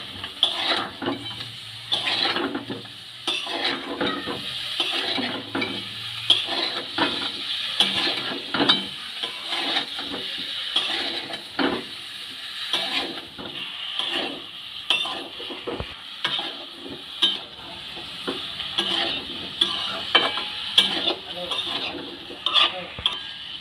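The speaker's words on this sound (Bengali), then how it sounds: "মশলার সাথে ফুলকপিটা ভালো করে আমি কষিয়ে নিচ্ছি।" Boiled cauliflower is stir-fried with spices in a pan, with repeated close scraping and clattering strokes of the stirring utensil over a steady sizzle throughout.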